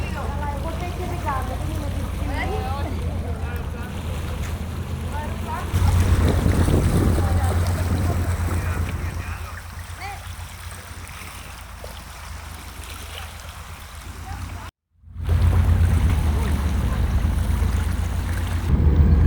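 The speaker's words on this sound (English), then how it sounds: "Here comes the sea jet, kicking up a lot of water behind it." Water churns and rushes as a SeaJet high-speed ferry passes off Syros, Greece, a low broadband roar of engine and spray with a brief dropout partway through.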